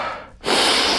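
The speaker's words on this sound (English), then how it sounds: "you're allowed to hear me breathing in and out now" Heavy, rushed breathing from a walker just after climbing a steep hill on the Cotswold Way at Cleeve Hill, outdoors, with close loud gasping breaths following a quiet moment.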